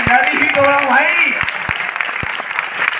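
A crowd claps steadily at a celebration event in Delhi, with someone talking loudly over the applause at the start.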